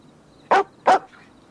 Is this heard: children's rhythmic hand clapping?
no